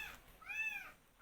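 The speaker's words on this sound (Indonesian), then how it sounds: "makanya kucing itu datang ke sini" A single short cat meow, faint but clean, rising and falling over about half a second against quiet background hiss.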